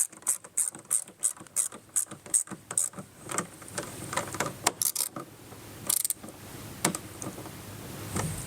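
Hand ratchet snugging mud flap bracket bolts on a 2024 Ford Mustang, rapid clicking pawl bursts in quick strokes, close and crisp, with a few louder clicks toward the end.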